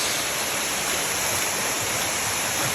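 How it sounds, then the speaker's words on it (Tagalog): Miji Falls pours in a steady, dense roar of rushing water, close and unbroken, with no voices over it. "There, that's the falls."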